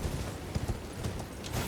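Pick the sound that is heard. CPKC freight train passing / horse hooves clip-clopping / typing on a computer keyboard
horse hooves clip-clopping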